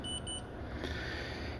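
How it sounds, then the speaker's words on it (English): An SJCAM 360 camera with no memory card gives off a faint, thin high-pitched beep near the start, quiet against a soft background hiss. "And it's beeping. It's probably complaining because there's no memory card in it."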